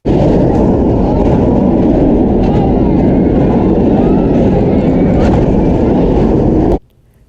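Kumba roller coaster at Busch Gardens Tampa thundering past, a loud, sustained low roar and rumble of the train on steel track that cuts off sharply near the end, leaving quiet.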